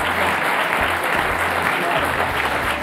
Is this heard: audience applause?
yes